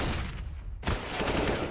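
A gunshot headshot in a competitive tactical shooter match, a loud sharp blast at the midpoint that cuts in abruptly over busy game noise and carries on in a dense, sustained wash.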